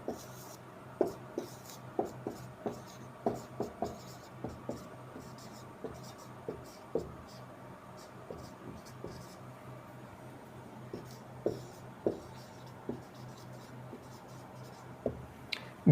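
Chalk or marker writes on a board during a grammar lesson, faint scratchy irregular strokes and taps scattered throughout, quiet and close, with no clear talking over them.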